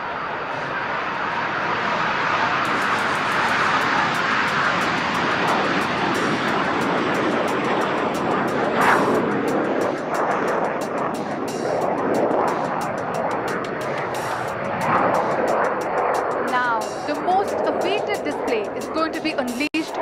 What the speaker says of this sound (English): Following the HTT-40 takeoff will be the takeoff of the intermediate jet